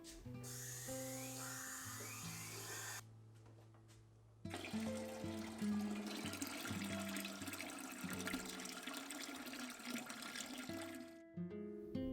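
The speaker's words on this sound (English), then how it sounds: "The first step is to fill your canner with 2 to 3 inches of water." Water runs into a pressure canner from a tap, a steady rushing pour with a short pause partway through, then louder splashing as the level rises. Close and moderately quiet, with no talking.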